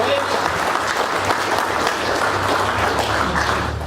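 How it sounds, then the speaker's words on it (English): A full round of applause from the audience at the 2018 Cardiff Motorcycle Show awards, a steady, continuous wash of clapping at moderate level throughout, with faint voices mixed in. "Big round of applause for everyone"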